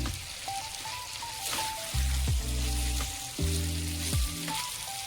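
Aila fish curry for a spicy Bengali fish dish frying in a pan and stirred slowly, a steady close sizzle with a few louder scraping stirs, no talking.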